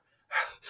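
A human voice imitates a sharp intake of breath: a faint breathy lead-in, then one loud, close gasp followed by the start of a second.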